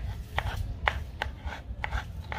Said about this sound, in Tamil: கத்தாழையை நல்லா பொடி பொடியாக கட் பண்ணிக்கோங்க.